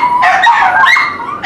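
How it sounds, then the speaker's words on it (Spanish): Three dogs howl together in response to a passing ambulance, their wavering, siren-like wails overlapping in a loud, continuous chorus close by. "ahí los tienes a los tres aullando como sirenas"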